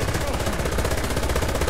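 Gunfire from a World War II tank video game featuring a Panzer III M, rapid machine-gun bursts pounding continuously and fairly loud, with a rumbling engine-like bed beneath.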